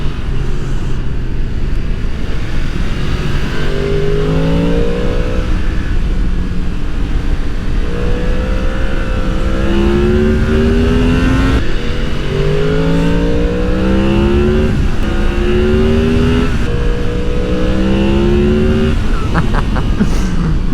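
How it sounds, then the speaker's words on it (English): A Yamaha MT-10 Crossplane four-cylinder motorcycle engine revs repeatedly through rising gear pulls, its pitch climbing in sweeps then dropping at each shift, loud and close. "The woodland creatures being woken up by the gentle sound of a Yamaha Crossplane 4."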